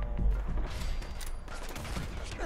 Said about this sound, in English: Ooh, hunting rifle.